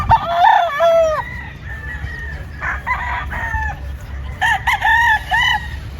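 White Kelso gamefowl roosters on a farm in Batangas crow loudly and close by, several drawn-out cock-a-doodle-doo calls spread across the moment, with short clucks and quieter crowing between them and no talk over it.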